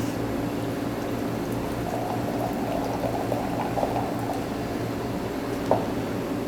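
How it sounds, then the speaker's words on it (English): Boiling hot water pours steadily into a glass for a flaming tequila Blue Blazer cocktail, a continuous close gurgling splash with a faint clink near the end. "A little bit of boiling hot water."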